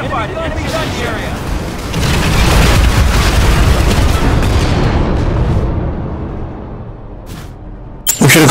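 A heavy C4 detonation in Planetside erupts into a loud, rumbling blast that swells and sustains for several seconds before tapering off, with a sharp pop near the end.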